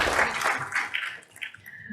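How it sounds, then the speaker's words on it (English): An audience at the India SME Leadership Summit in Mumbai applauds, a crowd of clapping hands rising and ebbing in uneven bursts, fairly close. "Can we have a big round of applause?"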